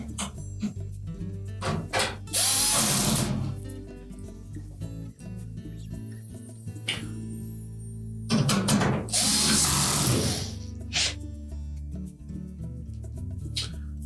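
A power tool drives screws into a sub-mounting bracket during a Frigidaire washer grommet repair. Two whirring bursts of a few seconds each run over a low steady hum.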